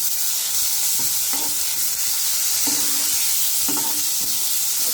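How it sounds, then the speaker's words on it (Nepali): A paste of cumin, coriander and garlic, ground on a grinding stone, sizzles loudly in a pan for an egg curry. The frying hiss is steady, and a spoon or spatula knocks against the pan now and then. "अब चाहिँ यसमा मैले पहिला हाल्छु यो मसला, सिलौटामा पिसेको मसलाहरू।"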